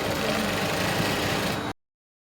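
A sewing machine runs steadily while stitching a shirred crop top with elastic thread, a continuous close motor whir that stops abruptly after about a second and a half.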